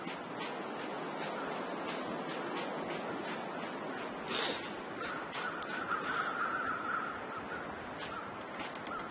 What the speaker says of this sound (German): So ein Schwarm kreisender Raben?